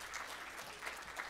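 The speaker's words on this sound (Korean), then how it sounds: "예, 박수 해주세요." Church congregation applauding during Sunday worship announcements, a steady short burst of clapping from many hands at moderate distance with no voices over it.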